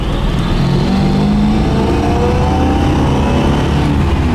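Engine of a 1976 Pontiac Firebird Formula pulling steadily while driving, a loud, continuous low rumble with road noise that holds evenly throughout, no voices.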